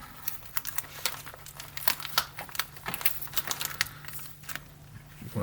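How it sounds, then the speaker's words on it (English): Plastic bag being peeled off the back half of a model ship, giving close, irregular crinkling and crackling bursts over a steady low hum, with no talk. "the back half should go pretty easy because it's just got that plastic bag wrapped over it"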